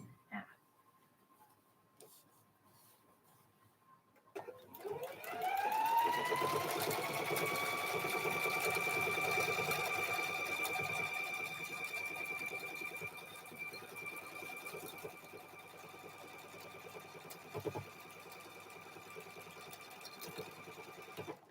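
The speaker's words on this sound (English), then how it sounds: "Sewing machine's tension is so tight and puckers." A sewing machine with overly tight tension stitches quilting in a steady, continuous whirring hum that starts after a few quiet seconds and runs on close by, with a brief knock partway through.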